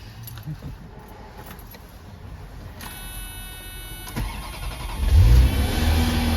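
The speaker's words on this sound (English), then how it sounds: "We're gonna cold start this 348 TS." Keys jingle, a starter cranks, and a Ferrari 348 TS engine catches and fires up from a cold start on a rainy day, settling into a loud, rumbling idle nearby.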